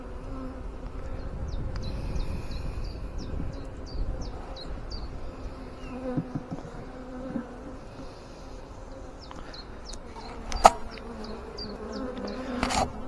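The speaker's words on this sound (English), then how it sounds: "There's bees all over the show here." Honeybees buzz all around an open hive during an inspection, a soft steady drone close by, with faint chirps and small knocks of frames being handled.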